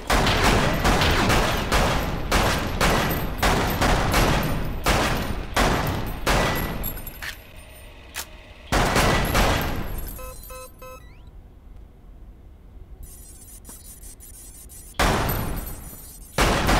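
Two guns firing in the Lethal VR shooting game on PlayStation VR, a long run of loud, regularly paced sharp shots, then a quieter stretch with glassy pings and clinks before the shooting resumes.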